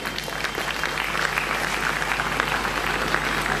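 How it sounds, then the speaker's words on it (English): Warm, steady applause from a concert audience welcoming a guest onto the stage at a flute recital, a continuous even patter of many hands over a low hum. "Can we have a huge round of applause"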